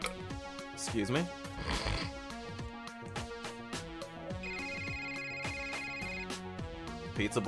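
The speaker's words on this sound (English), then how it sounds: "Pizza Boy's phone rings." A phone rings in a video game, its electronic ringtone repeating in a bright melodic pattern over game music while someone talks.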